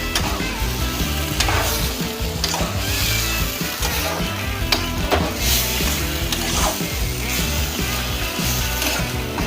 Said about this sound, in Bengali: নারকেল কোড়াটা কচু ডাঁটার সঙ্গে একসঙ্গে মিক্স করে নিচ্ছি।